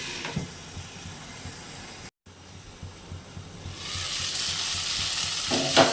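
Chopped ivy gourd greens sizzle and fry in a pan as they are stirred with soft scraping strokes, then the pan is covered and the frying hiss swells steadily louder.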